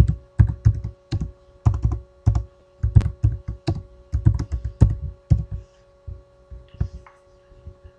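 Bursts of keystrokes on a computer keyboard come in quick uneven clusters of clicks and clacks, close and clear over a faint steady hum, with brief pauses between bursts.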